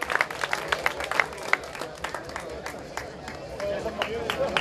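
An audience claps at an outdoor classic vehicle meet in Ca n'Aguilera during a prize ceremony, a dense, steady patter of hand claps lasting throughout under a murmur of crowd voices.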